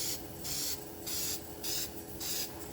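Rust-Oleum hammered paint sprayed from an aerosol can onto an old Reed 104 1/2 vise during restoration: four loud, close hissing bursts, each about half a second long, evenly spaced with short pauses and no talk.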